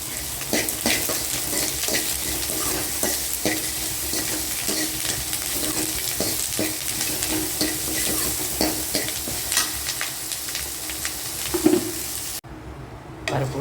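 Onions frying in oil in a home kitchen pan, with steady sizzling and repeated scraping stir strokes throughout, close and fairly loud, the sizzle briefly dropping away near the end.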